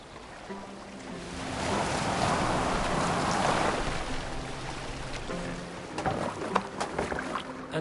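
Boat sailing across water in the Assassin's Creed Valhalla video game, a steady swell of waves and wind with creaking hull sounds and sharper knocks near the end, no one talking.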